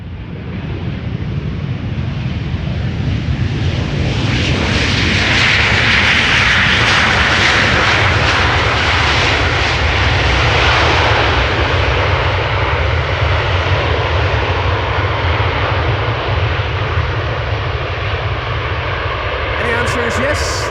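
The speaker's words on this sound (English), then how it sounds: "Ryanair arriving from Dublin" A Ryanair airliner arriving from Dublin lands at Amsterdam Schiphol, its engine roar loud and sustained throughout, building and holding as the jet passes close by, with some wind buffeting the microphone.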